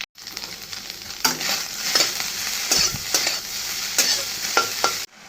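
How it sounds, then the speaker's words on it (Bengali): Spices sauté in hot oil in a pan, giving a continuous sizzle broken by repeated scraping strokes of a spoon stirring the mixture. The sound is close and there is no talking. "মশলাটাও কষিয়ে নিচ্ছি মশলাটা তেলও বেরিয়ে গেল"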